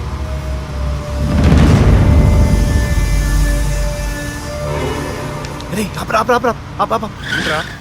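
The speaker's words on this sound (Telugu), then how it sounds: "ఓపెన్ చేస్తే ఒక కారు అలా వెళ్తుంది" A car drives past in a Telugu horror film scene, its engine roar rising loud and then fading over a few seconds, with dramatic music swelling and brief voices near the end.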